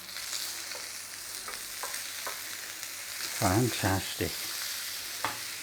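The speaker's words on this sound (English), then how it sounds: "We're just going to flip those mushrooms again." Mushrooms sizzle in a pan and are flipped, giving a bright crackling fry with a few scraping clicks from the turning. Midway someone speaks a short word over the frying.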